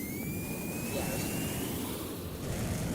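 Jet aircraft afterburners in a flight simulator game, a steady, dense roar held loud and close throughout, with a thin turbine whine gliding slowly upward above the rumble.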